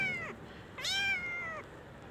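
Kittens, apparently living on the street, give two clear meows close by, one short and then a longer rising-and-falling call, against a soft background hiss.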